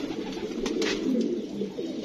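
Two Shirazi fighting pigeons from Peshawar, one black and one red, coo close by in a continuous low, throaty burble over soft background noise.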